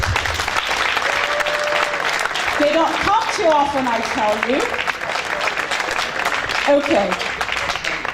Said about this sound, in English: resounding applause for Eric's award